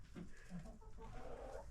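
Rooster kept on a homestead, soft distant clucks and a short crowing call heard faintly against a quiet outdoor background, with no talking.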